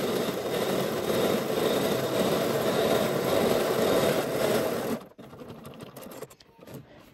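A sewing machine runs steadily, topstitching a seam on a pair of pants about a quarter inch from the seam line, a loud continuous whir that stops abruptly after about five seconds, leaving quieter handling noises.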